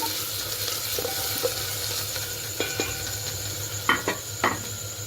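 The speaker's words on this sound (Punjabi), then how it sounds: "ਲਸਣ ਤੇ ਮਿਰਚਾਂ ਇਹਨੂੰ ਵੀ ਚੰਗੀ ਤਰ੍ਹਾਂ ਆਪਾਂ ਭੁੰਨ ਲਵਾਂਗੇ" Garlic and chillies fry in hot oil with a steady sizzle, broken by a few clinks and scrapes of a utensil against the pan.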